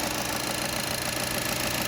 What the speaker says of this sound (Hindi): इंजन चालू है